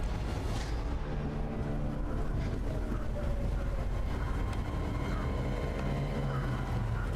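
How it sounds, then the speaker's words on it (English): A train in Star Wars Jedi: Fallen Order rumbles to a stop, a steady loud low rolling drone with some metallic tones that keeps up for the whole stretch. "Train has stopped."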